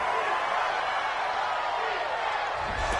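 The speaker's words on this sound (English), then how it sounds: "this crowd does not like that call" A video game football stadium crowd roars steadily after a penalty call against the home team, a dense, continuous wash of massed voices that swells slightly near the end.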